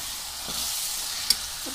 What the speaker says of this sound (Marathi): हे आपण एकदा आता चांगल्या प्रकारे हलवून घेऊया।